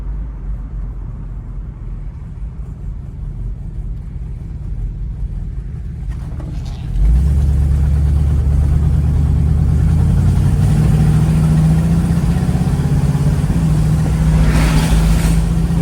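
A 1972 Oldsmobile Cutlass engine drones on the move, first a quieter low rumble, then louder and steadier after the car picks up speed, with a continuous low hum and road noise from inside the cabin.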